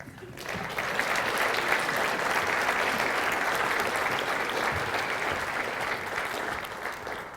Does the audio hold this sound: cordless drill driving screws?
no